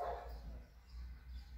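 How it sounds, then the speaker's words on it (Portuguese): A tied-up dog barks faintly and far off in a residential neighborhood of São José dos Campos on a rainy day, one short bark standing out over a steady low car-engine rumble. "Olha onde o cachorro tá amarrado,"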